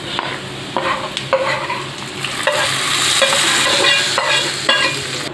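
Nendran banana payasam being stirred in a pan with roasted coconut: a spoon scrapes and clinks against the pot in repeated strokes over a soft bubbling sizzle, close and fairly loud, with no talking.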